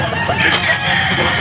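A Super Brown Red gamefowl rooster crows once, loud and close, at a busy pet market where farm breeders sell birds.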